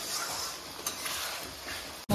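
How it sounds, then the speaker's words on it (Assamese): Masala spice paste frying in oil for mutton curry, a steady soft sizzle with faint stirring scrapes, ending in a brief thump. "মছলাখিনি এতিয়া খুব ভালকৈ ভাজিব লাগিব একেবাৰে তেল ওলাই যোৱালৈকে।"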